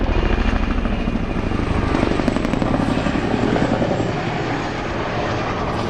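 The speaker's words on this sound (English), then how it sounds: "from number 27 Squadron Royal Air Force, based down there at Royal Air Force Odiham, the Chinook" An RAF 27 Squadron Chinook from RAF Odiham flies its display at the East Fortune airshow, a loud, close, continuous rotor and turbine roar that fades slightly toward the end.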